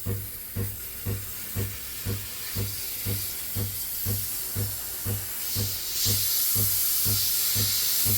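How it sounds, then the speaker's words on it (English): An espresso machine's steam wand hisses while frothing milk for lattes, a steady breathy hiss with a regular pulsing thump underneath that swells louder and brighter near the end. "You can see if you turn this on and steam the milk for your lattes and cappuccinos."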